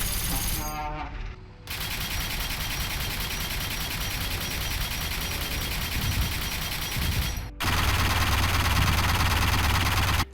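An anti-air gun firing in a video game, a sustained rapid stream of loud shots that breaks off for a moment and then resumes heavier and deeper.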